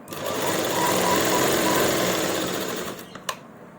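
A sewing machine runs at a steady fast whir while stitching the collar of a kameez, loud and close for about three seconds before stopping, followed by a small click.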